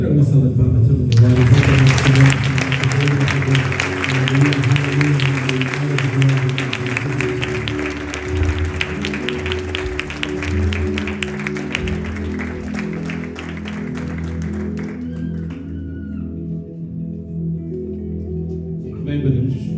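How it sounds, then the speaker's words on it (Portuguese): Church congregation breaking into sustained applause and clapping, a broad dense wash lasting most of the clip before tapering off near the end, with low musical tones and voices underneath. "Traga uma salva de palmas, todo mundo."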